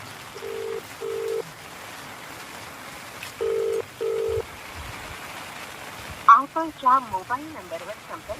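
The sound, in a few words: telephone ringing unanswered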